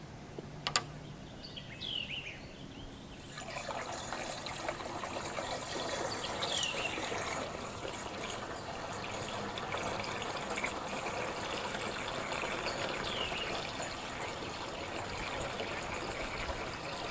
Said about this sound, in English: So I'm going to do 4 gallons of water and then the gallon of treatment.